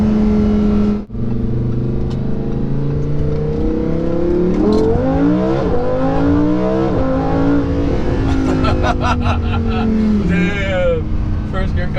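Sports car pulling hard through first gear, the engine note climbing loud and strong through repeated rising revs and shifts, with people talking over it inside the cabin.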